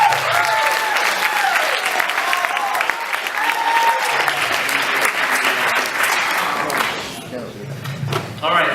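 A debate audience gives a round of applause when a topic ends, loud and steady clapping that fills most of the stretch, then thins near the end as a voice begins talking over the last claps.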